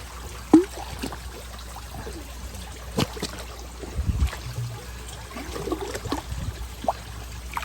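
A bell siphon draining a crayfish pond gives a faint trickle and gurgle of water, with quiet splashes and irregular bubbling bursts near the middle, low and soft against a steady background hum.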